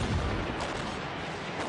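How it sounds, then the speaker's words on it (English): Explosives fixed to the head of a huge mallet blast at a Mexican town festival honoring the patron saint of mining, giving a loud, broad burst of noise that rumbles on briefly. "locals attach explosives to the end of a huge mallet"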